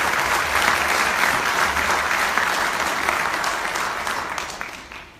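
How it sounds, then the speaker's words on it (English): Sustained audience applause at a training workshop in Lisbon, dense and even clapping that holds steady before fading toward the end. "Give them a big round of applause, please."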